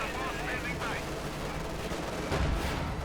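Battlefield din from Company of Heroes 2 with a machine gun crew under StuG bombardment and T-34s advancing: dense, continuous gunfire and shelling rumble filling the whole stretch, with a heavier burst near the end.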